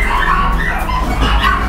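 A dog kept at a house barks and yips close by in a brief, loud burst against a noisy background.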